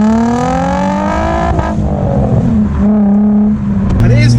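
Nissan 350Z fitted with a custom straight mid-pipe exhaust revs loudly and close in a tunnel, the engine note climbing and dropping in repeated blips, with a decatted Audi RS4 Avant following behind, rain falling and the roof down.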